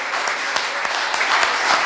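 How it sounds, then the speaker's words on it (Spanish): A church congregation applauds during a Spanish-language worship service, giving a steady, fairly loud round of clapping with sharp individual claps and no voices over it. "Dale un aplauso al Señor."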